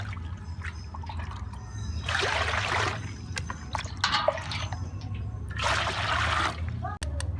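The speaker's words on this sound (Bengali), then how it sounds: "তাহলে তো গামলির মধ্যে তিন মগ জল দিয়ে দেবো" Mugs of water are poured into a basin to make a soak for stopping clothes dye from running. Three separate splashing pours fall over a low steady hum, with brief quiet gaps between them.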